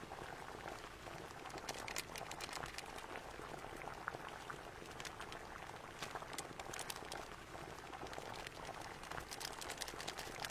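Water boiling vigorously in a pot on the stove before ramen noodles go in, a dense steady bubbling and crackling that stays close and even throughout with no talking.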